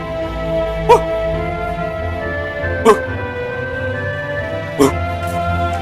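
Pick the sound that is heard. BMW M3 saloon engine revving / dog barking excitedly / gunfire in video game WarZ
dog barking excitedly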